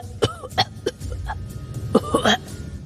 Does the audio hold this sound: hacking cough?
yes